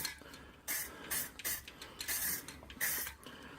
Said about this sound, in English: So I'm getting ready to lay down the first layer of paint